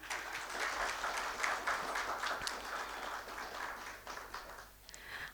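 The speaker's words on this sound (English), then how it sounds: "Please join me in giving them a warm round of applause." Audience applause at an education conclave, a steady wash of many hands clapping at moderate level throughout, easing slightly near the end.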